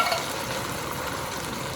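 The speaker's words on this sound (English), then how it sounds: "I'm going to go ahead and add a can of chickpeas." A can of undrained chickpeas goes into a pot of vegetarian coconut, sweet potato and chickpea curry, giving a steady close sizzle and stir with a brief splash at the start.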